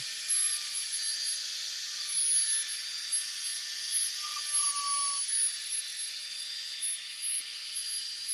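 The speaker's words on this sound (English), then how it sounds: "This is an older drill bit too," An older drill bit bores steadily with a high, continuous whine that holds an even level throughout, with no talk over it.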